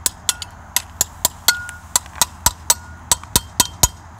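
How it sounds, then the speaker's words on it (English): Steady hammer taps, about a dozen sharp metallic strikes in an even rhythm, drive an alternator part for an Oldsmobile 98 back into place with a chisel and wrenches in a parking lot. "I'm going to take my hammer and chisel my two favorite Craftsman 3/8 and half-inch wrenches, and I'm going to tap this baby back in"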